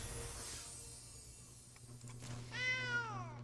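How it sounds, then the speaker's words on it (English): A cat meows in a card video game: a rising then falling tonal meow near the end, clear and fairly close, following quieter background hum and faint clicks, with no talk over it. "Aw, it's a kitty cat."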